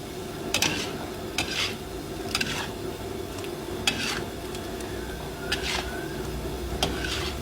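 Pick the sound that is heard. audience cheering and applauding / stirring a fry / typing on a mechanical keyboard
stirring a fry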